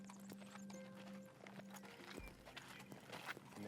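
A horse brought out for a trail ride at Miller Ranch in Arizona, with hoof clops and brief snorting close by over steady outdoor ambience and a low background hum.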